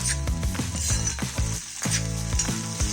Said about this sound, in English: I'm going to add in finely chopped green chilies and along with this, coriander leaves. Stir this well.